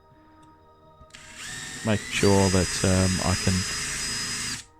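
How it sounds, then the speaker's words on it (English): A power drill with a large bit whirs up close, speeding and slowing in several short bursts before a steady run, removing a flange from a Matchbox Ford Sierra RS500 Cosworth model car, with someone talking over it. "So I'm just going to reach for a large drill bit and my drill to take off the flange"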